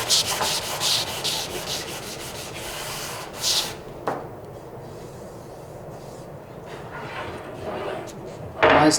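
Hand sanding on a large wooden door, scratchy rubbing strokes in irregular bursts, close and moderately faint, with quieter stretches between passes.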